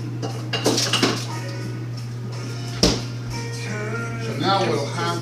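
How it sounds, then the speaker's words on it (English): Metal utensil scraping and clinking around a cooking pot as noodles are stirred, with scattered knocks and clatter over a steady low hum, close and moderately loud. "I'll do a little counterclockwise stirring"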